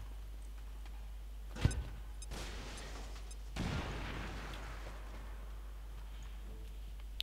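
Explosions in the turn-based strategy game XCOM 2: a sharp blast followed by a second, broader rumbling boom a couple of seconds later, fairly faint over a low steady hum.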